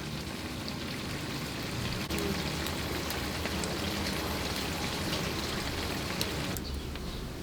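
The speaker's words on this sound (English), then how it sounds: "And look at that, it's bubbling over, it's frying" Pork chitterlings deep frying in hot oil give a dense, steady crackle of bubbling and popping, continuous and fairly soft at a short distance.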